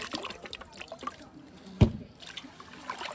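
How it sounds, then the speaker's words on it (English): Water splashes and trickles as it is poured onto rice to wash it during outdoor cooking of Jamaican stew chicken and rice, with one sharp louder splash midway over quiet background noise. "so we just about just add the water"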